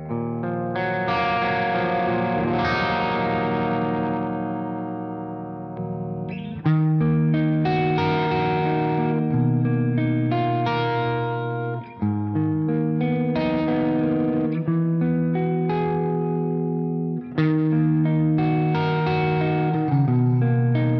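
Clean electric guitar played through a Rev D20 amplifier with Line 6 effects, chords and sustained notes ringing steadily with a chorus-like shimmer, loud and alone for about twenty seconds with no talking.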